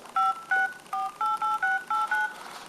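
Dialer keypad tones on an HDC Galaxy S3 i-9300 Pro clone phone, nine short clean beeps pressed in quick, slightly uneven succession, close and clear with no talking.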